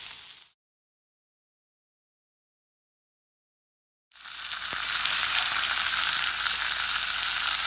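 Pork cutlets sizzling in a pan with tomatoes, garlic and mushrooms while cooking outdoors in the wild, a brief burst of frying, a silent gap, then a steady loud close sizzle.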